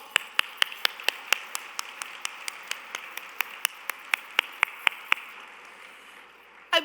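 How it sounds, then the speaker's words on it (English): Audience at a YWCA Hartford Region women's luncheon claps for the event sponsors, a dozen or more distinct near claps standing out over a faint spread of applause that stays steady and ends abruptly. "Please let us give all of today's sponsors a hearty round of applause."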